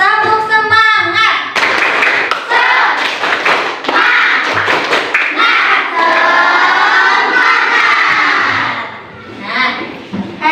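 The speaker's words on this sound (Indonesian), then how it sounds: "kita lakukan tepuk semangat ya anak-anak ya. Tepuk semangat." Children in a classroom doing a rhythmic clapping chant, loud and close, with sharp synchronized claps mixed with shouted group voices, ending with a brief spoken line.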